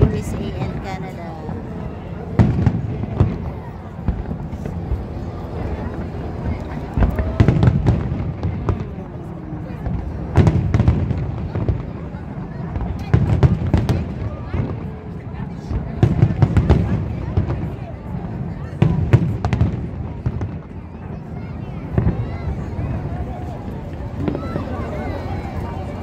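Big fireworks burst over the USA–Canada border in a series of loud, sharp booms and crackles at irregular intervals, echoing across open air while a crowd murmurs and people talk in between.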